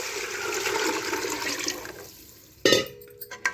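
Measured water gushes into a cooking pot in a loud rushing stream that tapers off, followed by a few light clinks of the pot.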